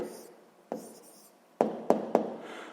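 Pen strokes of a maths answer being written by hand on paper: a soft scratching stroke, then a few sharper taps of the pen near the end, close and fairly quiet.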